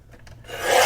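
A piece of scrapbook paper is cut, giving one short, close rasping stroke that swells into a louder swish.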